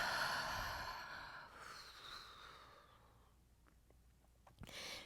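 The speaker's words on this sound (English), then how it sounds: "Take a nice big exhale for me." A big exhale during a beginner yoga hamstring and hip stretch: one long, soft breath out that fades over a few seconds, followed by a brief rustle and a fainter breath near the end.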